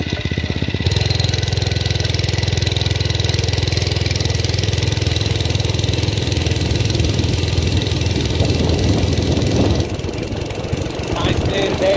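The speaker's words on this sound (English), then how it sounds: "Usually fires on the first pull and I don't even have to choke it or anything." An MM80 motorcycle engine fires on the first pull and settles into a steady, loud, close idle with a constant chugging rumble that runs the whole way through.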